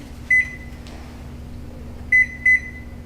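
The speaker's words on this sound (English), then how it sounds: "Now, all we have to do is microwave this" A microwave oven heating butter gives a steady low hum, broken by three short, bright electronic beeps: one early on and a close pair near the end, with no talking.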